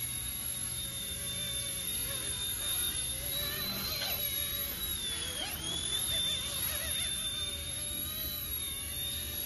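An RC MD500 helicopter spins through pirouettes, its steady high-pitched rotor and motor whine sweeping up and down in pitch as it turns, continuous and fairly close.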